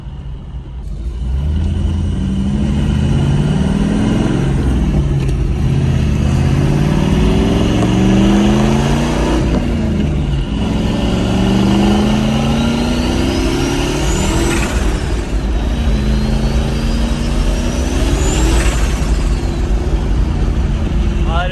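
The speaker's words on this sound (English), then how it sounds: "Either spinning the clutch or the tires. I'm pretty sure it was the tires." A turbocharged 5.0 Ford Ranger accelerates hard with its engine roaring and pitch climbing through repeated gear pulls, turbo whistle riding on top, loud and close inside the cab with some talk.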